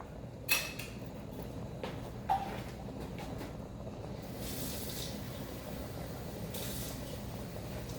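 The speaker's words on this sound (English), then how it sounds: "I'm going to fill these up with halfway with water" Water pours steadily into containers, filling them halfway for homemade chili, with a couple of sharp clunks and knocks near the start, no voices.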